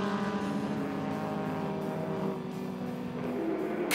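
A Datsun and an Escort race car on the start-finish straight, a continuous droning engine roar with steady harmonic whine shifting slightly in pitch, moderately loud and heard from a distance, with no talking.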